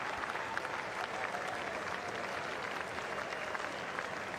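Dense, steady applause from a large cricket crowd greeting a six by Ollie Pope off O'Rourke in a New Zealand v England match, a continuous wash of clapping with no break across the few seconds.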